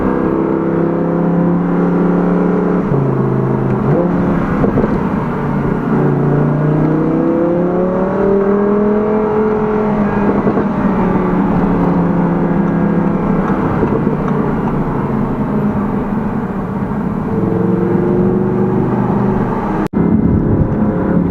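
A rear-wheel-drive Audi R8 V10 RWS roars from inside the cabin as it accelerates, its engine note sweeping up and dropping back with gear changes in a sustained, loud drone.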